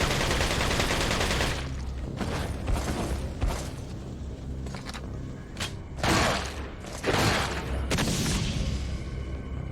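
Heavy Magnum pistol shots in the video game Resident Evil 4, several loud broadband blasts spaced irregularly over continuous game music and ambience, with no talking.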